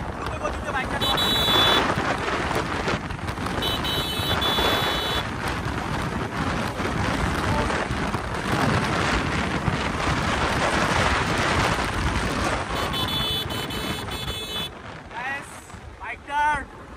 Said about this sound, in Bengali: খুব দ্রুত গতিতে বাইকটা চলে।